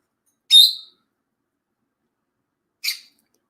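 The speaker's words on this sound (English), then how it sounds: "Okay, Rachel, your bird's causing trouble." A pet bird gives two short, high-pitched chirps about two seconds apart in a quiet room, the first louder than the second.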